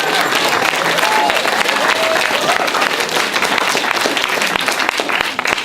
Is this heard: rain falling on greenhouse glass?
no